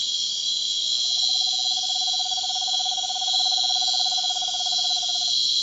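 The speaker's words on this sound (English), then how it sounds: "The Middle American screech owl continues singing." A Middle American screech owl sings in rainforest leaf litter at dusk: one steady, fast trill of rapid notes lasting about five seconds, set against loud, continuous high insect chorus.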